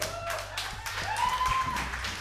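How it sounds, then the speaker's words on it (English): A live show audience bursts into brief, lively clapping with a whoop or whistle mixed in, a couple of seconds of fairly close, scattered claps. "I've never received applause for sitting before."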